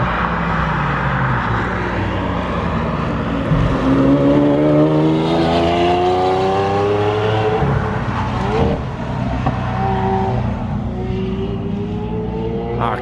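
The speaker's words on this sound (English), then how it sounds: "Here comes a Lambo. Beautiful noise that makes." A Lamborghini roars as it accelerates past, the rising revving pitch sweeping upward over a McLaren's steady background engine rumble, loud and fairly close.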